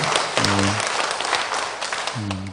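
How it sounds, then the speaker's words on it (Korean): A church congregation claps loudly and continuously at a student group's dedication service, with short voiced sounds at the start and end. "격려의 박수 한번 힘차게 해주시기 바랍니다."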